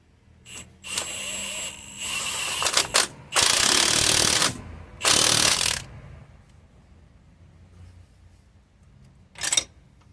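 A ratchet spanner tightens nuts and bolts on a front suspension strut of a VW Crafter or Mercedes Sprinter van, with quick clicking bursts followed by two longer rasping runs and a short final burst, close by.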